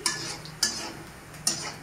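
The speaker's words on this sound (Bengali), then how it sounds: "আমি আর একটু পেঁয়াজটাকে ভাজছি।" Onions sizzle gently in a pan while a spatula scrapes and stirs them, three distinct scraping strokes standing out over the soft, continuous frying hiss.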